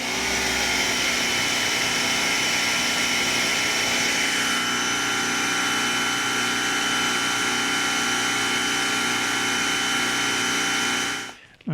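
An electric pressure washer runs continuously through a 1/4 inch Uberlex hose, a loud steady motor-and-pump drone that shifts slightly in tone midway and then cuts off abruptly at the end.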